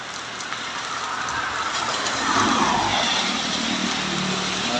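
Steady rain falls on a nipa hut, a dense, continuous wash of drops with no voices, holding at an even level and swelling slightly midway.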